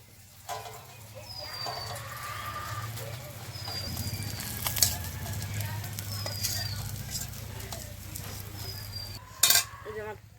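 Fried fish are lifted out of hot oil in a pan, with light metallic clinks and scrapes of a utensil over a soft background sizzle. Faint chirps repeat in the distance, and a sharp clatter comes near the end.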